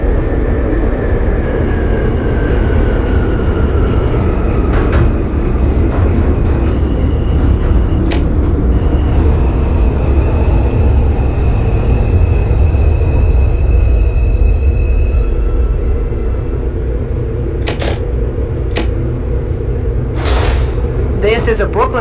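An NYC Subway R142 train on the 5 local in the OpenBVE simulator gives a continuous loud low rumble of running wheels and motors, with a few brief squeals and clicks near the end.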